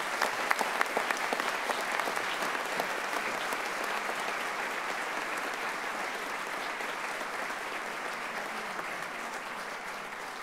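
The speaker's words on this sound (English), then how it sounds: "I know that everybody just clapped" An audience at a district grand opening ceremony breaks into sustained, dense applause that holds steady for about ten seconds, with a few sharp claps standing out early on.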